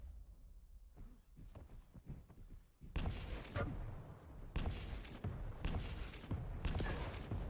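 Sharp gunfire bursts and booms from a Quake match between Serious and Cypher, the railgun among the weapons, firing in loud repeated blasts with thuds and footsteps in a busy arena.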